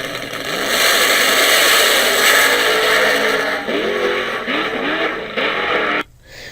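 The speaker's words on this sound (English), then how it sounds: "When someone in a car all of a sudden presses the accelerator down to a specified position, say all the way down to the floor" A car accelerates hard with the accelerator pressed to the floor, a loud, close engine roar that builds within a second, holds steady, then shows repeated rising pitch sweeps before cutting off abruptly near the end, with no talking.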